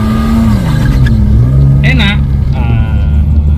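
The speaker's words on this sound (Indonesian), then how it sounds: "Tarikannya mobil ini kita coba." A 1994 BMW E36 320i accelerates with a loud, close engine drone that climbs in pitch, dips at a gear change, then rises again, with people talking over it inside the car.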